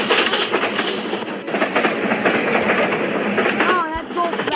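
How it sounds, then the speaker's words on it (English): A train rumbles steadily in the Build a Train video game, with continuous clattering wheel noise throughout and a brief squeal near the end. "There is my train. It's here."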